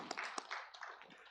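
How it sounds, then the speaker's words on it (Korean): Church congregation at a Sunday service gives a brief, faint round of clapping, a few scattered sharp claps over quiet room sound. "하나님께 영광을 박수드리겠습니다."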